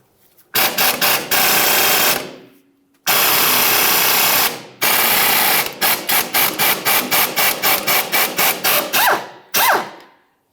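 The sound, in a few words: 14mm ratchet removing pinch bolt on Ford Fusion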